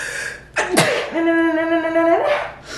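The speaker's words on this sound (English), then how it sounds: "I gotta sneeze." A sharp gasping intake followed by a single loud sneeze, then a drawn-out voiced groan trailing after it.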